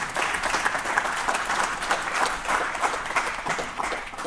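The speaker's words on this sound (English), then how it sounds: "So I think it also deserves a round of applause." An audience at a talk on Norway-Israel relations applauds with a dense, steady round of clapping that lasts the whole stretch at an even level.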